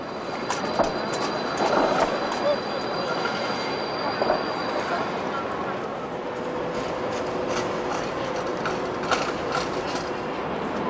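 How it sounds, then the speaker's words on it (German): A D-Zug express train bound for Berlin pulls out of Leipzig Hauptbahnhof beneath the huge train-shed roof in the 1990s, with steady rolling rumble, metallic wheel squeal and scattered clattering carried through the whole stretch. "Es ist ein D-Zug nach Berlin, der sich auf den Weg macht."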